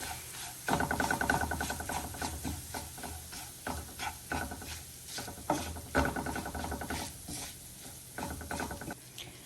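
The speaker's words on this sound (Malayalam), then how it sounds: "അപ്പോൾ ആദ്യം മുളക് പൊടി, നമുക്കൊന്ന് മിക്സ് ചെയ്യാം." Chili powder being stirred into a Kerala-style sardine curry in a pan, giving repeated scraping and stirring strokes with a light sizzle, close and fairly steady throughout.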